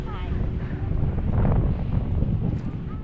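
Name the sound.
strong wind at the beach, Mandalika, Lombok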